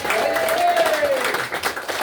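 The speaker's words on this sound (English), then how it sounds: "can we just say, your sound and tech guys who put this on tonight, give them a round of applause" Comedy show audience applauding for the sound and tech crew, a steady wash of clapping, with a voice briefly speaking over it.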